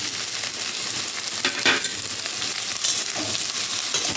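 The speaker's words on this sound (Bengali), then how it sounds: "ঝিঙেটাও অল্প একটুখানি ভাজা ভাজা হয়ে যায়।" Ridge gourd frying with potatoes in a pan, a steady close sizzle with brief louder bursts as the pieces are stirred.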